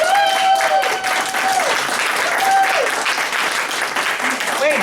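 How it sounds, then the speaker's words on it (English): Applause breaks out at a school board of education meeting, steady clapping from a room of people throughout, with a voice speaking over it. "I'm clapping."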